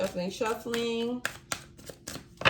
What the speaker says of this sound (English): We're gonna do a little bit of shuffling.